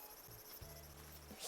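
Insect buzzing from the Animal Crossing video game, a steady high shrill over a soft background with short low tonal notes partway through; no one talks.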